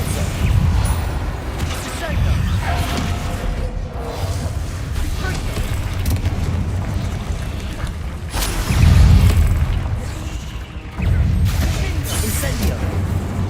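Depulso spell blasts go off in Hogwarts Legacy, heavy booming bursts over a constant rumble of combat noise, with one stronger thump standing out partway through.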